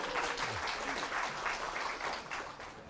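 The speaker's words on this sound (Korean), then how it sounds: "이때 박수를 쳐야 돼요" Audience applause at a business lecture on entrepreneurship and overseas markets, a steady wash of many hands clapping at moderate distance, continuous and fairly faint throughout.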